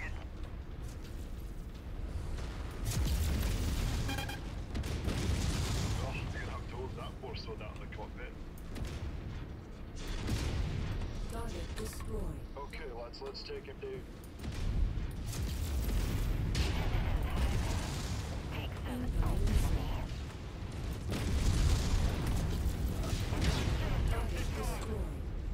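MechWarrior 5 combat with an Atlas support mech taking fire: repeated heavy booms, explosions and bursts of weapon fire in irregular clusters, loud and dense, with a voice talking among them.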